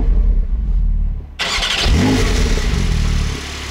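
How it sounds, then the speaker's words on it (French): A Porsche 992 Turbo S twin-turbo flat-six fires up after a quiet cabin moment, catching with a sudden loud burst and settling into a deep, rumbling idle heard up close. "c'est l'heure de réveiller le Flat 6 biturbo et on y va."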